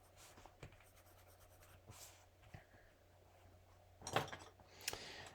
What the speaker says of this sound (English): This one's just a colored pencil.